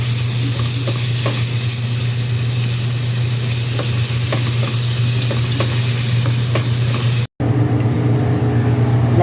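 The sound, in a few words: ground meat frying and being stirred in a pan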